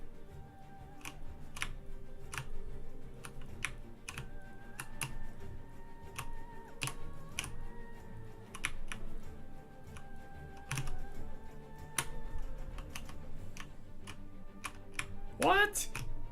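Typing on a computer keyboard during a PC-building discussion, with sharp scattered key clicks in irregular bursts, some clustered taps, over a low room background with faint tonal hum.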